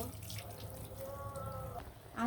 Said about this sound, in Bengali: আর এদিকে কিন্তু আমি লাউগুলো খুব ভালো করে সুন্দর করে ধুয়ে নিব